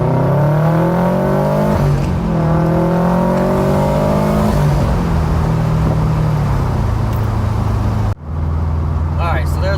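Car engine under wide-open throttle pulls from a rolling start, loud and close, revving up in several rising sweeps before dropping off sharply near the end, then a brief lull and a settling idle, with talk underneath.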